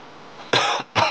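A person coughs twice in quick succession, two short, loud, harsh bursts close by with no talking around them, the cough of someone who is ill with fever and feeling weak.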